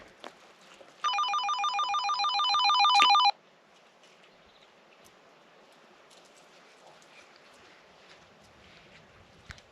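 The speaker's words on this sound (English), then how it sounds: "Okay, it's 8 o'clock. Let me phone her again." A telephone rings during a call from a remote off-grid home: a bright electronic ringing warble, fairly loud and close, lasts about two seconds and then stops abruptly. Faint outdoor ambience follows, with no voices.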